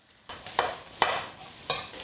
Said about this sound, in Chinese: 下入盐菜、青红椒圈，大火快速的翻炒均匀